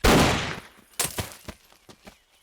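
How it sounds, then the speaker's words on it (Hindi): One loud, close gunshot from a shooting-practice scene in the film Sholay bursts out at the start and decays, followed by several sharper, fainter cracks and knocks echoing irregularly afterward. "अब गोली चला दो।"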